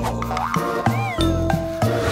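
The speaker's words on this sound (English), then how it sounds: "Oh, so it's a kitten." A kitten's single drawn-out meow rises and falls mid-clip, set against a busy cartoon-style backdrop of music and repeated percussive clicks, fairly loud and close.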